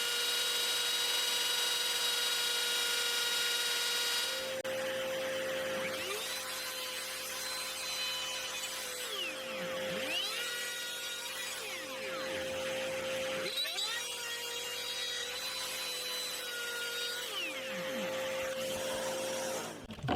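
A handheld router fitted with a collar and guided along a guitar neck cuts a 9mm-deep channel, its loud motor whine rising and falling over several passes, with bursts of cutting noise and a steady underlying hum.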